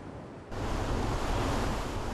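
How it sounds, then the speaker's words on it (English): Storm waves crash against the coastal railway track at Dawlish, with a loud, roaring surge that bursts in after a brief quieter moment and then rushes on without a break, dense and close. "As it swings above the sea, every wave pounds and punishes this track"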